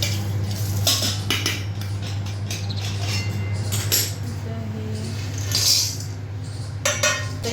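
Whole spices being dry-roasted and stirred in a pan for homemade Gharguti masala, with repeated metallic scrapes and clinks of a spoon against the pan under a steady low hum, close and moderately loud.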